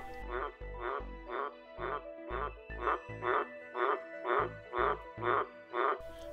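A rhythmic series of about eleven loud, evenly spaced frog croaks by a pond at night, close by, repeating roughly every half second.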